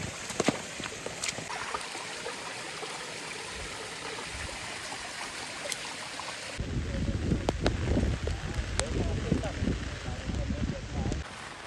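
Strong wind gusts through a dense forest campsite, a broad rushing roar mixed with falling water, swelling louder and buffeting the microphone in the second half, with faint voices underneath.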